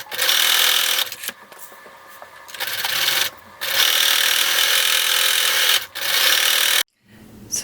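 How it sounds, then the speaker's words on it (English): Sewing machine stitching two seams at a half-inch seam allowance, backstitching at the start and end; loud, steady close-up whirring runs in bursts separated by brief pauses, with no talking. "So we're going to sew both of these seams with a 1/2 inch seam allowance."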